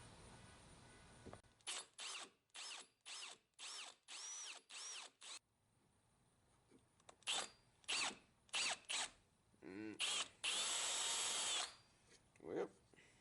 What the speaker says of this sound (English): now I'm going to drill final hole in here